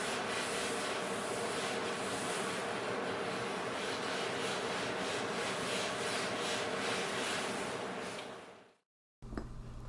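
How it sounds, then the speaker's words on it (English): A stiff scrub brush scrubs steadily back and forth over a wooden staircase while stripping stain and finish, a continuous close rasping sound with no voices. "And then I will use a scrub brush."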